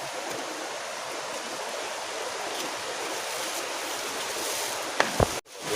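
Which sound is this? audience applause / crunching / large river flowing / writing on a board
large river flowing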